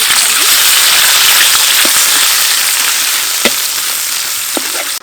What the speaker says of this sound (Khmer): ឥឡូវយើងឆាខាងនេ